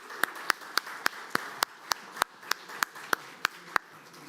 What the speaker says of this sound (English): This applause is for you.